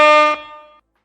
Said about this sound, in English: Let me drop an air horn for Bed-Stuy.